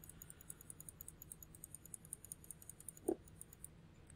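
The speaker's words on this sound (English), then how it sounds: "I'm trying to click the button to see." Computer mouse button clicks, heard as faint, steady, evenly spaced ticks in a quiet room, with one slightly louder click near the end.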